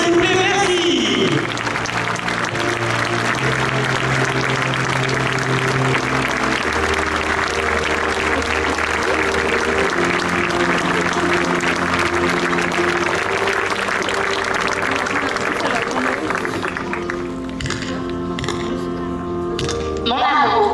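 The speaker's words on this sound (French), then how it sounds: "Accompagné bien entendu de Mélias sous applaudissements, s'il vous plaît, merci." A crowd at a jubilee celebration in Saintes-Maries-de-la-Mer keeps up continuous applause under a public-address announcer and music, the clapping steady and loud throughout.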